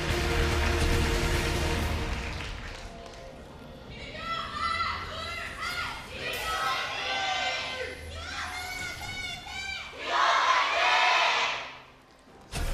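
An esports arena crowd at an LCK Summer Split 2017 League of Legends match between SKT and BBQ cheers and chants in loud, rising waves of many voices, peaking near the end before dropping away abruptly.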